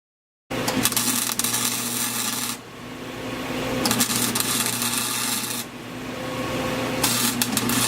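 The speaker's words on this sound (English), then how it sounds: "grab my welder, let's see if I can get that, yeah. And then I'm going to tack it on." A welder tacks a metal piece onto an exhaust flange of a turbo dump pipe, making close, loud crackling sizzles in bursts of about two to three seconds, with short, quieter gaps between them.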